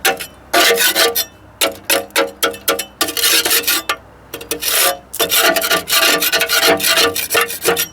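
Small trowel scraping rust off the rotted metal of an old John Deere 110 TLB, loud repeated rasping strokes in irregular rapid bursts with short gaps, close up and without speech.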